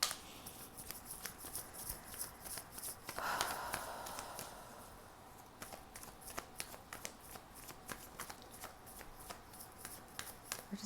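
Tarot cards being shuffled by hand, a close run of quick riffling flutters and soft slaps with irregular taps and pauses, fairly quiet.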